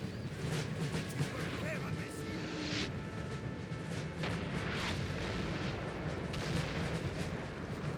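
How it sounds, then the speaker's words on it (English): Dense, rolling battlefield din from a Napoleonic-era strategy game battle, with repeated booming artillery volleys layered into a continuous roar, while a voice talks over the noise. "It's a lot of artillery there, isn't it?"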